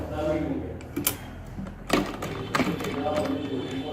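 A sewing machine stitches around a boat-neck garment neckline, a steady close mechanical hum broken by a few sharp clicks and knocks, with someone talking over it throughout.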